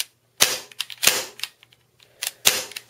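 An airsoft pistol fires several sharp, loud close-range shots with short clacking action sounds between them, no talking.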